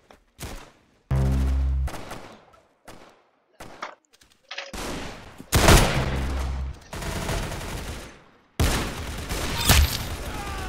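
Bursts of video game gunfire in Arsenal, with several sharp single shots and longer rapid volleys in irregular bursts, loud and close.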